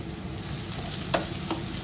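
Garam masala and onions fry together in a pan, giving a soft continuous sizzle with a couple of brief stirring clicks.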